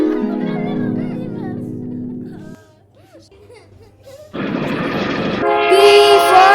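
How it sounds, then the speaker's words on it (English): A train sound effect with a horn plays in a children's phonics nursery song, a loud horn blast and rolling rail noise coming in over sung music and a voice. "T for train."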